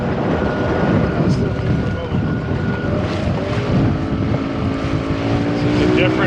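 Small boat with an outboard engine in gear, motoring along with a tiller, a steady loud drone with wind buffeting the microphone throughout.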